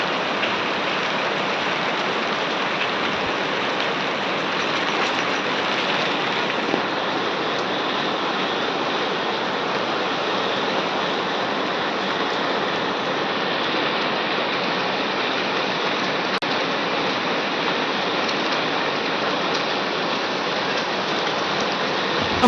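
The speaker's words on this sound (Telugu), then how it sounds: "వర్షాలు అయితే కురుస్తున్నాయి" Heavy rain pours steadily across Telangana, a dense, continuous hiss of downpour that stays loud and unbroken throughout, with no voices present.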